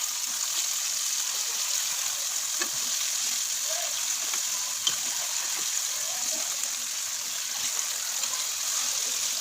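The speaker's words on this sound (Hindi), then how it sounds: "ऑयल को गर्म होने दें, तो 1 बाय 1 फ्राई करेंगे।" Zinger chicken pieces deep fry in hot oil, a continuous even bubbling hiss with faint crackles, steady and moderately close throughout.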